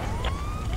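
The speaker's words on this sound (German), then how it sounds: "Lichter, Sirene brauchen wir nicht die ganze Zeit" Police car siren in the GTA 5 video game (LSPDFR patrol), a faint rising wail sweeping upward over a steady low rumble of engine and road noise, continuous for under a second with no talk.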